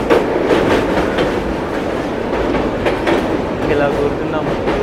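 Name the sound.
train running, Visakhapatnam to Araku journey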